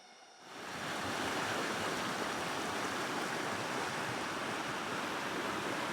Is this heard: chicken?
no